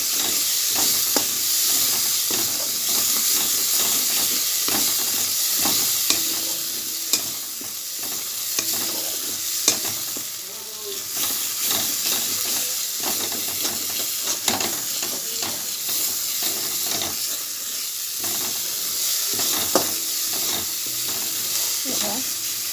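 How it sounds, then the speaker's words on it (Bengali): Spice paste frying and being stirred in a pan, a continuous sizzle and hiss with frequent scraping, clattering stirs throughout, close and fairly loud, no talking. "মশলাটা একটু কষিয়ে নিই।"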